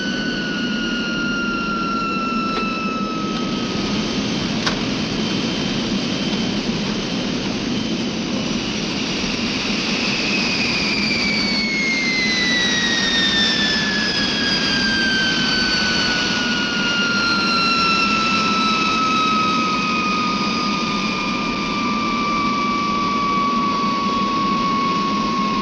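A jet airliner lands in the film Cone of Silence: a loud, steady jet engine roar holds throughout, with a high turbine whine that drops smoothly in pitch as the engines spool down after touchdown.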